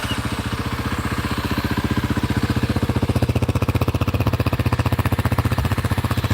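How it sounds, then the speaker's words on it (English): Kawasaki KLX 300 motorcycle idling in a driveway with a quiet exhaust, a steady, even low putter with a fast regular pulse, close and alone throughout. "I really dig the quiet exhaust."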